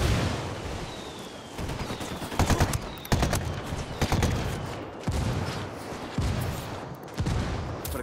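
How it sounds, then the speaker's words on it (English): Mortar and gunfire in Ghost Recon Wildlands, heavy booming blasts and rapid cracking shots repeating loudly over the whole stretch with a dense low rumble beneath, no talking. "I called Pacatari for some mortar fire."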